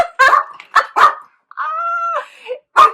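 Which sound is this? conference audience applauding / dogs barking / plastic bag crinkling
dogs barking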